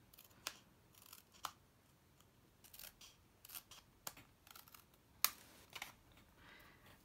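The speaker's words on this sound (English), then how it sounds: "So you can just snip that off and snip this one off as well." Scissors snipping off card tabs for a gift box, a series of sharp, quiet, close clicks and cuts spread irregularly across a near-silent background.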